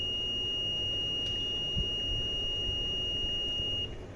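A multimeter continuity test on a wire gives a steady, high-pitched electronic beep that holds unbroken for about four seconds, then cuts off, over faint background hiss.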